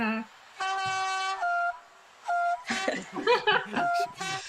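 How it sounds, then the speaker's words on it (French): A horn sounds in a few sustained tonal blasts, marking the last two minutes of a game session, and people then talk over and around it. "ce klaxon précise qu'on est dans les 2 dernières minutes de la partie"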